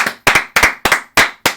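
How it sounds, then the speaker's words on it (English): Six sharp, loud hand claps, close and evenly spaced, sound alone in an irregular rhythm. "Clap it up."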